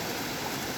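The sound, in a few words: river water flowing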